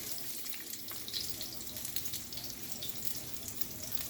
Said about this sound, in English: Saute the ginger and garlic until crispy.